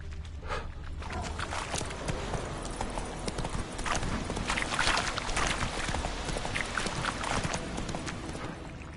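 Roach the horse in The Witcher 3 gallops with a steady clip-clop of hooves throughout, close and continuous over a busy ambient background.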